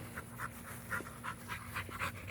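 An American Bully puppy pants quickly and softly nearby, a steady run of breathy huffs with no talking over it.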